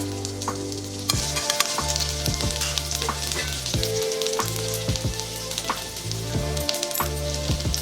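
Ginger pieces crackle and sizzle in two spoons of hot ghee for an idli chaat tempering, a steady close frying hiss with frequent sharp pops and light stirring scrapes, no voices.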